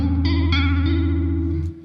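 Behringer Ultra Vibrato UV300 pedal set to its fastest speed and fastest rate, giving a sustained instrument tone with a rapid, warbling wobble and chorus-like shimmer, loud and alone, with a few new note attacks before it fades at the end.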